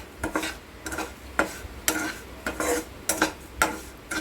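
Semolina is dry-roasted in a pan and stirred in a series of distinct scraping strokes, roughly one every half second, close and fairly quiet with a faint sizzle underneath.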